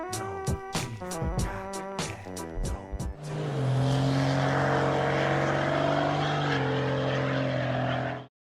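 A 1996 Dodge Ram 3500 with a 12-valve Cummins diesel drives with a loud, steady engine drone. Broken, uneven sounds come first, then the drone runs for about five seconds and cuts off.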